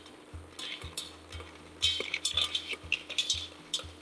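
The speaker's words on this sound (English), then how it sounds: "I've reduced the cider down by about half, so my mussels can go in now." Mussels tipped into a pan of cider reduced by half, giving clinks and scrapes of shells against metal over a steady sizzle, with a regular low knocking rhythm throughout and no talk.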